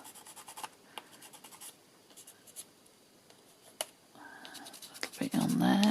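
Pencil point and flat side of the nib scratching over a gesso background, a soft dry rasp in short strokes with a few sharper ticks, then louder rubbing near the end.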